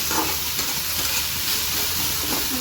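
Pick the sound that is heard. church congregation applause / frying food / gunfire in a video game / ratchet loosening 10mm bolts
frying food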